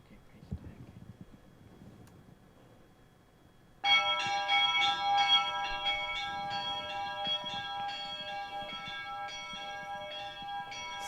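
Church bells ring in a sustained, layered peal that starts abruptly after a few seconds of quiet murmuring and then continues loud and resonant with overlapping strikes.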